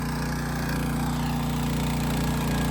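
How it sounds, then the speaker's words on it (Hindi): Tractor engine driving a rotary tiller through wet soil, a steady close mechanical drone with a rhythmic low throb that stays loud and even throughout, no talking. "अच्छी चल रही है रोटरी। बिल्कुल चल रही है जी।"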